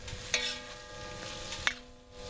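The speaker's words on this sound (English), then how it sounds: "we can now mix everything" Ingredients being mixed on a hot cooking disc, a soft sizzle running underneath with a couple of sharp utensil scrapes and clacks, close and fairly quiet, no talking.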